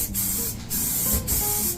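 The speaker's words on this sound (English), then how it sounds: "start to spray here, end it here, if that makes any sense" A paint spray gun coating a Hondo 767 Deluxe guitar body hisses in three close, steady bursts separated by brief pauses, a loud airy spray with no talk over it.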